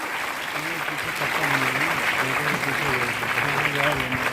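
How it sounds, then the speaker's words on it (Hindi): A crowd at an outdoor ceremony in Azamgarh welcomes guests with applause, steady clapping that grows slightly louder after the first second, with voices calling out over it. "तालियों की गड़गड़ाहट के साथ आप सब स्वागत करें"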